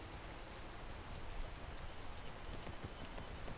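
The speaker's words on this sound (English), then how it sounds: "And the rain." Steady rain in a video game hisses continuously with dense patter and scattered drop ticks, filling the scene without a break and with no voices.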